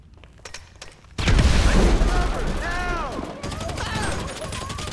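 In Grand Theft Auto V, a grenade blast and gunfire erupt in a sudden loud burst after quieter scattered shots, followed by rumbling explosive noise and crackling fire, with shouted voices over the top.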